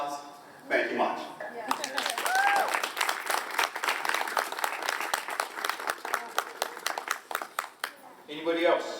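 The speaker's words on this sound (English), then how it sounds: "Everyone deserves a round of applause." Group applause from participants at a key ceremony, a dense burst of many hands clapping for several seconds, with voices and chatter at the start and end.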